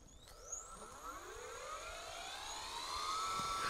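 An electric bike's hub motor spins its slightly wobbly, unbalanced rear wheel on a stand during an RPM test, giving a loud rising whine that climbs steadily in pitch as the wheel speeds up, with no talking.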